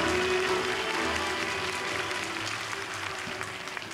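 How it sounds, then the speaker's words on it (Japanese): A full house at a premiere screening of the Golden Kamuy drama series applauds in a steady, moderately distant wash that slowly thins, with faint talk beneath it. "改めて大きな拍手お願いします"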